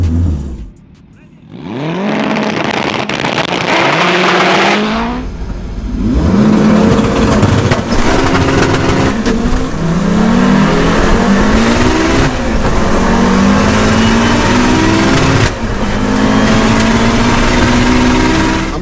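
Drag racing cars, a 900HP Audi Quattro and a 770HP all-wheel-drive Honda Integra, rev hard and accelerate with repeated rising engine sweeps and shifts, loud and close after a brief quiet dip, running almost continuously.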